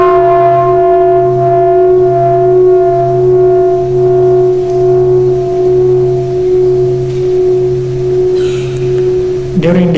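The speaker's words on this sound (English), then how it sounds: "there will be many sounds of the bell." A meditation bell at a Zen retreat rings with a long, sustained, resonant tone that swells and wavers slowly for several seconds before a faint shuffle at the end.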